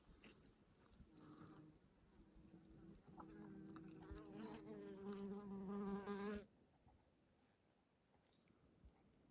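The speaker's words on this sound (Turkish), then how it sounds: "Evet arıların kovu burası." Bees buzz in a rising, droning chorus close by at an old forest hive, swelling louder for several seconds before dropping away to a quiet background hum.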